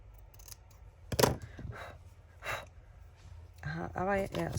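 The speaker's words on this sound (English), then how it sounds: "I'm going to cut off a long, thin slither." Scissors snipping a long thin strip from pink card, a few close, crisp cuts between breaths, with a person talking near the end.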